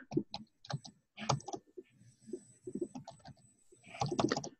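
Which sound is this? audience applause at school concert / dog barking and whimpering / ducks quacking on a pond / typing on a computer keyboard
typing on a computer keyboard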